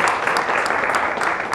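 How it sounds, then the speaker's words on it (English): Audience applause for a panel of speakers at a Holberton School event, dense steady clapping filling the room throughout, close and fairly loud with no gaps. "A big round of applause for our panelists, Kimberly, Gabriella,"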